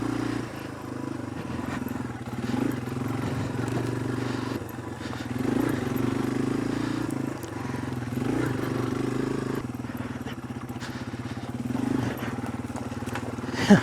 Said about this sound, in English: Just do what you do, little tractor.